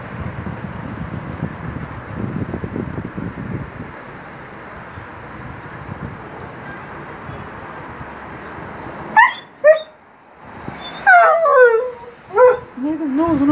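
Dogs yip and whimper in short, sharp bursts near the end, following a stretch of steady background noise and low rumble.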